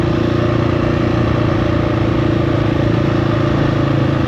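A KTM 690 Enduro R motorcycle engine runs loud and close on a mountain trail in North Carolina, a steady, dense throbbing drone with no talking.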